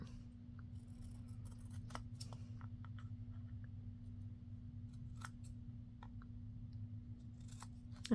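Scissors make a series of small, quiet snips while trimming the edge of a sheet of paper, irregular clicks and cuts spread out over a low steady background hum.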